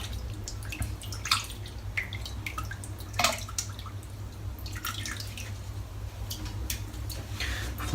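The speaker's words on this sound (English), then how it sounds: "let's get it dipped in the water" Water drips and patters from a freshly dipped Greg Wagner kabuki-knot shaving brush, a scatter of close, light splashes and droplets over a low background hum.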